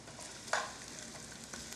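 Onions frying in a pan, cooking until they turn clear, give a steady soft sizzle with light stirring throughout and a brief louder clatter near the middle.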